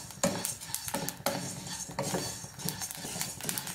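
Rice grains dry-roasting in a pan for a traditional Kerala rice-ball recipe, stirred with a utensil; close, fairly quiet scraping strokes recur with light crackling pops between them, no talk.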